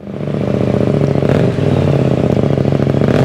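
A KTM 890 Adventure R motorcycle with its factory exhaust runs with a steady, loud engine drone and a fast, even pulse, alone with no talk, holding a constant note with only a brief dip midway.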